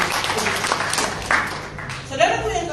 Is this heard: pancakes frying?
no